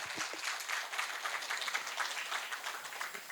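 An audience claps for a folk poet at a Shahiri performance event, a continuous patter of applause heard from a distance, fairly faint and even throughout.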